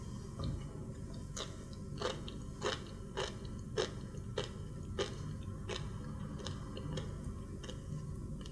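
Sea grapes, a bead-like seaweed, being bitten and chewed up close: a steady series of crisp, wet crunches and pops at a roughly regular pace over a low background hum, with no talking.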